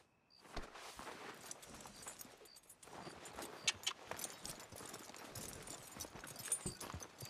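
Horse hooves clip-clop at a steady walking pace in Red Dead Redemption 2, close and fairly quiet, with faint jangling of tack now and then.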